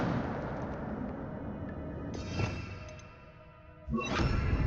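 A fire spell cast in Hogwarts Legacy gives a whooshing burst that rises around the middle, then a second, louder flare near the end over a steady rumbling game backdrop.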